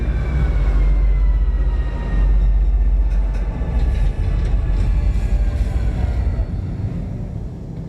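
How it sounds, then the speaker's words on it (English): A train pulls away from a station in the space game Star Citizen, a steady loud low rumble with rising whine tones and faint rattling, fading slightly as it departs, with no talk. "See the other train leaving."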